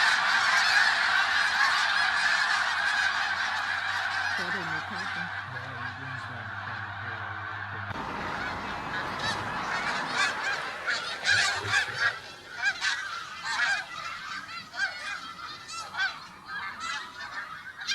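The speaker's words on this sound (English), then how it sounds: "That is the birds sitting down on the Belial Road property right" Geese honk loudly and continuously from a played recording of birds settling on a rural road property, a dense overlapping chorus of many calls with background noise, heard during a township conditional use hearing.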